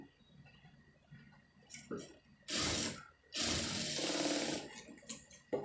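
An electric sewing machine stitches the lining of a garment in two close, loud bursts separated by a short pause, with softer handling and fabric sounds before and after.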